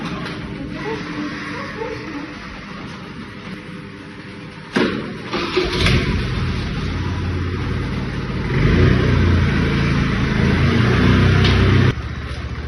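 A vehicle engine starts with a sharp onset and then runs steadily, rising to a louder idle or rev before cutting off, heard close by with no talk over it.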